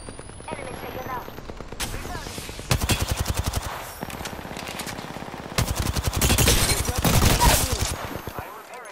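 Rapid automatic gunfire rattles in a battle royale video game firefight, with several long sustained bursts separated by short gaps, loud and close, with other game sounds underneath.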